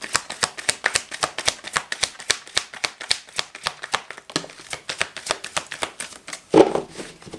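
Tarot cards shuffled in rapid, even riffling flicks, crisp and close, with a brief pause and a final soft slap as a card is drawn.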